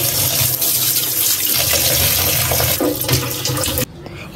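Loud running water gushes continuously over freshly cut vegetables being washed, with splashing and sloshing before it cuts off abruptly near the end.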